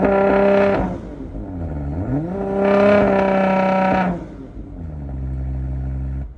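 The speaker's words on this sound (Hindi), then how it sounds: "एग्जॉस्ट को तो सुने।" A new Audi RS5 with large dual exhausts is revved twice, each blip rising sharply and falling back to a throaty idle, loud and close with no one talking.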